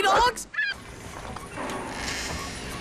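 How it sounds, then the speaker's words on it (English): Cartoon seagulls let out loud honking squawks at the start, then the calls fade into a steady background wash with little else. "Everybody, seagulls!"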